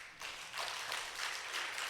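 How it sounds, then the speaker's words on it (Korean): A church congregation in Guatemala bursts into applause, a broad steady wash of clapping that holds from start to finish, fairly distant and soft, with no voices above it. "박수 해야 돼요, 이럴 때."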